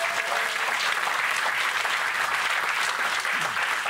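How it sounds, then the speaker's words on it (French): Audience applause in a television studio, a loud, continuous clatter of many hands clapping from a close crowd, sustained with no break. "Merci, applaudissements pour l'ami."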